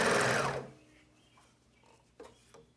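A serger runs a loud, fast whirring burst as it stitches across the bottom seam of a fabric face mask, then stops, leaving faint handling clicks and rustles.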